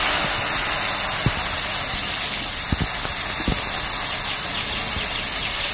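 Washed jujubes (kul) for pickle hit hot mustard oil in a kadai, giving a loud, steady frying sizzle with scattered small pops and crackles that runs without a break.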